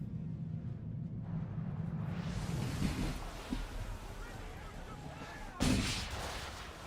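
A swivel gun fires in Assassin's Creed 3 during a naval fight, with sharp booming blasts, the loudest near the end, over a constant wash of wind and water.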